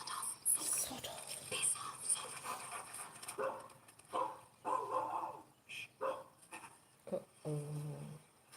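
A dog barks and yips a few times indoors, faint and somewhat distant, while a person talks quietly nearby.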